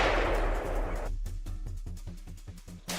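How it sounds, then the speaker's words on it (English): Rifle shots fired in quick succession at a herd of wild boars, a loud initial blast followed by a rapid string of sharp cracks, about a dozen evenly spaced reports. "Without hesitation, I opened fire in succession, hoping to kill as many wild boars as possible."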